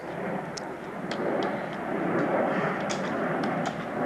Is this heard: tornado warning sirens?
no